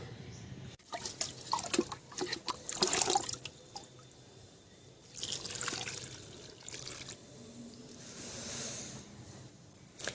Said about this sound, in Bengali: পুরো মাটিটাই আমি জল দিয়ে ভিজিয়ে দেবো